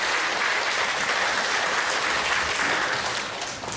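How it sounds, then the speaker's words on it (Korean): Sustained applause from a church congregation for the choir during a Sunday worship service, a steady dense wash of clapping that holds evenly and tapers slightly at the end. "우리 찬양대 한 번 더 박수 주시기 바랍니다."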